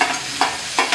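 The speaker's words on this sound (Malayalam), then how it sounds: "ഞാനിത് ആ ഉള്ളി എണ്ണയിലേക്ക് ഇട്ടിട്ടുണ്ട്." Onion sizzles in hot oil in a pan while a spoon stirs it, with three distinct scraping strokes over a continuous close frying hiss.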